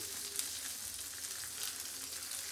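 Fish frying in plenty of oil on a tawa, a steady close sizzle with soft crackles throughout and no voices.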